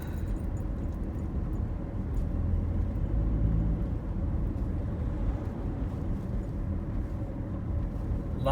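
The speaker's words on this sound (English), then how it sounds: "I have trucks that keep passing me" Trucks passing a car in a tight squeeze on a road-widening construction stretch, heard from inside the car as a steady low rumble of engines and tyres with swells as the vehicles go by.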